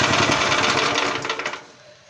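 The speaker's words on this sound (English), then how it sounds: "The engine is off." A mobile welding machine's engine shuts off, its rapid loud mechanical chatter sputtering in uneven pulses before fading into near silence over about two seconds.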